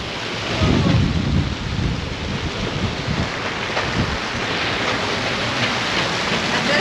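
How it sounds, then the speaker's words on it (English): A squall strikes a Leopard 45 sailing catamaran at sea as a front hits: strong wind buffets the microphone and rain pounds down, loud and continuous with gusty surges. "I guess this is a squall, eh? This is, I think, a front. The front just hit us."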